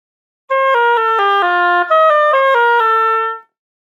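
A solo oboe plays a short etude passage using left F fingering, a run of clean, evenly toned notes stepping downward and back over about three seconds, bright and close, framed by silence.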